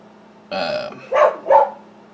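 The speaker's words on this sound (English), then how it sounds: "One of my dogs are barking" A dog gives three close barks, each short and sharp with a brief gap between them, against a quiet room hum.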